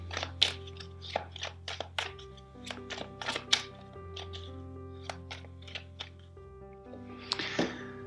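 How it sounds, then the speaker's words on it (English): Tarot cards are shuffled by hand, a run of quick papery slaps and riffles in irregular bursts, close and fairly quiet, with a low steady hum beneath. "First, let's shuffle four times."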